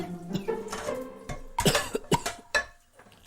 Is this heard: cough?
yes